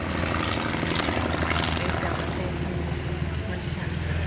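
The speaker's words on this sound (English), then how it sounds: "And the Fokker D-7 swinging in to take off" A Fokker D-7 biplane with a 180 horsepower Mercedes engine takes off, its loud steady piston drone and propeller roar holding close and constant throughout.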